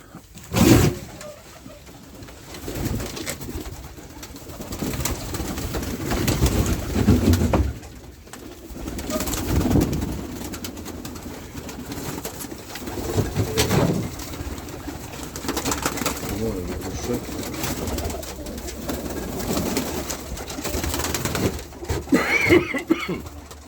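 Pigeons coo in a rooftop loft, a steady low murmuring chorus that runs throughout, with occasional wing flaps and shuffling nearby and a cough partway through.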